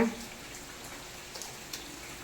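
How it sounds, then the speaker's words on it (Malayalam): Rain falling outside, heard as a steady soft hiss with a few faint scattered drop taps, distant and quiet. "പുറത്ത് നല്ല മഴയാണ് മക്കളെ"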